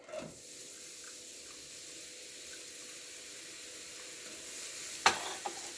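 Chopped onion sautéing in warm olive oil for pasta with ground beef, producing a soft, even sizzle close by with a sharp clatter near the end and no talking.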